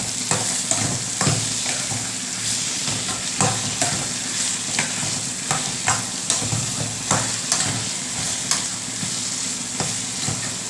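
Steady oil sizzle with scattered crackles and pops as tomatoes are stirred in a pan, close up, no voices.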